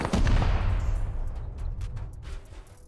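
Explosive-bullet gunfire in the survival video game Rust, a loud rolling burst of shots and blasts at the start that decays into scattered fainter pops and crackles.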